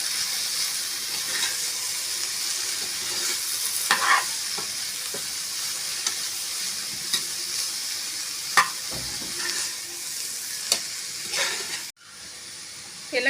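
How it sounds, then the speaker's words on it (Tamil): Shredded cabbage with turmeric powder and salt sizzles and fries in a pan while a spoon stirs it steadily, with an even hiss and occasional scraping knocks. "எல்லாத்தையும் சேர்த்துட்டு நல்லா கலந்து விட்டுக்கலாம்."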